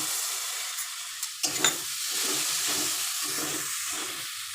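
Potatoes and chili sauté in a pan for pitha curry, a steady close sizzle and hiss with a few light stirring scrapes and taps.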